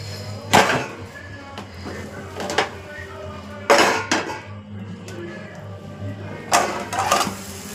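An omelette is turned over in an oiled pan using a pot lid, giving three sharp metallic clanks and clatters spaced a few seconds apart over a steady low hum.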